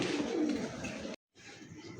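Pigeons coo in low, soft rolling calls near the start, followed by a short gap and then more quiet murmuring from the birds, with faint background noise.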